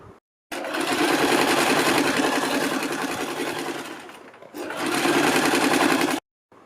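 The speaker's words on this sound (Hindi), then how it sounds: "हम पहले यहाँ पर इसके ऊपर पूरी पट्टी के ऊपर एक सिलाई लगाएंगे" A sewing machine runs loud and close while stitching along a blouse strip, in two long continuous bursts separated by a brief slowdown, then stops sharply into silence.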